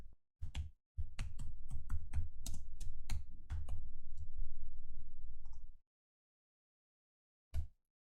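Keystrokes on a computer keyboard while entering a command for a Tinyhawk 2 drone build, a few separate clicks then a dense run of rapid close typing for about five seconds, and one last key tap after a pause.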